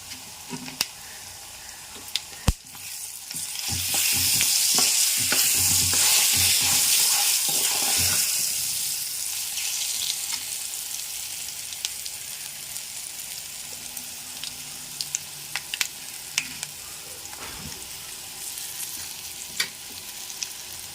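Cumin seeds frying with mustard seeds in a pan for a yam (kanda) pickle, a loud hissing sizzle that swells early then settles, with scattered pops and scraping stirs, close and without talk.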